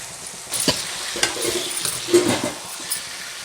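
Pieces of chicken go into a pan of frying masala with a soft sizzle, broken by a few stirring scrapes and light clinks, close and fairly loud.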